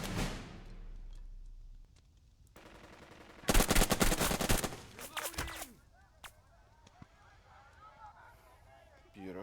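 Rapid bursts of machine gun fire rake an enemy squad in the Burden of Command war game, loud volleys dominating the middle of the clip, with softer shots and battlefield noise before and after beneath a speaking voice.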